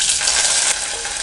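Chopped onion and curry leaves hit hot oil where mustard seeds have already popped, making a steady, close, dense frying sizzle with no voices.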